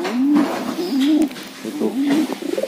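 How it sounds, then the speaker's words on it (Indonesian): Soft, repeated pigeon coos in a low rolling rhythm, several phrases close by with brief pauses between them; merlok pigeons. "Ini ada merpati."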